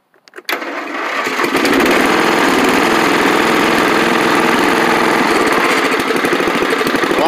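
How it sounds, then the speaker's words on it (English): A riding lawn mower engine cranks briefly, catches and roars into a loud, steady running drone close by, with no voices over it. "I haven't started this in a while, so let's see if he'll start."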